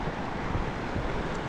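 Whitewater rapids on a river just above a waterfall in eastern Uganda, a loud, steady broadband roar of rushing water mixed with wind buffeting the microphone, with no talking.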